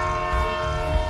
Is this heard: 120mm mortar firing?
no